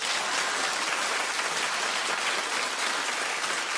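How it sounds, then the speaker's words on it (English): Studio audience applause on a daytime talk show's hot-topics segment, a steady, dense wash of clapping that holds loud and even for nearly four seconds with no voices over it. "Clap if you agree."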